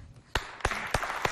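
Four separate, evenly spaced sharp claps ring out at a school show, loud and close against a quiet background.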